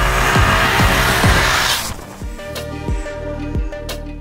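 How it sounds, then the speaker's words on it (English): A Jawa 42 Bobber motorcycle engine being flogged hard, revving loudly with mechanical clatter: a rushing roar first, then a harsher engine drone punctuated by regular sharp knocking pulses, close and without talk. "the mechanical clatter of the engine makes it known that the engine doesn't really like this flogging"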